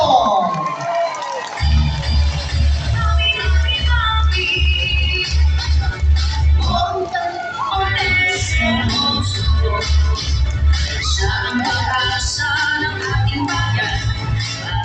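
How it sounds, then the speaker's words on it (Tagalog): A large crowd at an outdoor barangay community gathering in Trece Martires cheers and shouts loudly and continuously, with a steady booming low rumble underneath throughout. "palakpakan na may kasamang hiyawan"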